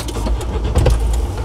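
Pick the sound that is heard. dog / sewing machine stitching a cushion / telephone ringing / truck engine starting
truck engine starting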